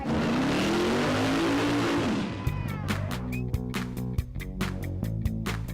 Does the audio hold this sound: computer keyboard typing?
no